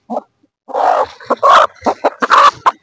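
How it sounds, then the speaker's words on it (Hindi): A hen clucks in a string of short, loud, close bursts after a brief opening squawk, with no talking over it. "ये आ गई हमारी मुर्गी"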